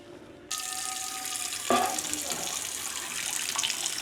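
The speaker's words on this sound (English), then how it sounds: "So first we want to put some water in it." Tap water running into a cast iron hot sausage cooking pan, a steady splashing stream starting abruptly and continuing throughout, with a brief louder gush midway.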